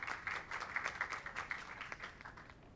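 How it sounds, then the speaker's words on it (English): Faint, distant applause from a real estate masterclass audience, a soft continuous patter of many hands with no voices over it. "Let's give a giant round of applause for Darrell Nunnelley."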